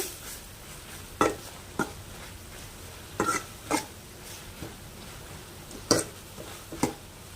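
A spoon scrapes and clanks in a pan at irregular intervals, about eight distinct strokes over a soft background sizzle, as tomato, onion, curry leaves and coriander are mixed for mutton gravy.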